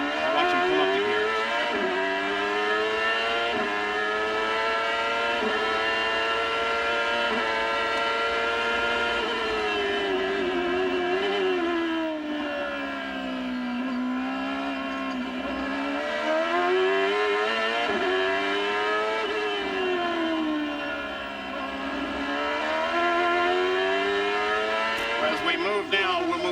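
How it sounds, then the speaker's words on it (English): Onboard a 1996 Monterey Grand Prix race car, the engine screams loud and close, its pitch climbing and dropping repeatedly as the car shifts up through the gears and brakes, with commentary talking over it. "Just sitting with the onboard. Watch him come up the gears."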